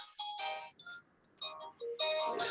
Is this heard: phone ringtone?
yes